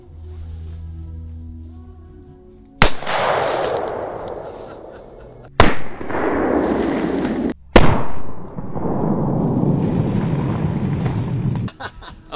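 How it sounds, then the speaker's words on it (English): A Taurus Raging Bull revolver is fired at a pumpkin outdoors. Three very loud, close shots crack out a few seconds apart, each followed by a long, ringing rumble. "I'm gonna shoot my pumpkin."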